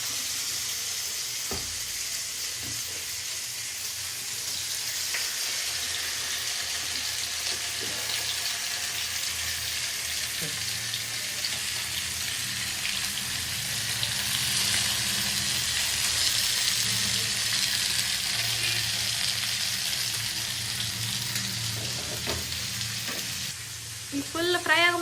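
Food frying in a pan gives off a steady, fairly quiet sizzle for the whole stretch, with a few stirring clinks and scrapes and a brief rise in crackle near the end.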